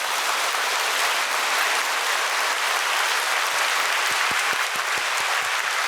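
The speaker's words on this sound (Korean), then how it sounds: "우리 하나님께 감사의 박수 올려달리십시오" A church congregation applauds steadily during a sermon, a dense wash of many hands clapping at close to mid distance, with a few sharper individual claps standing out toward the end.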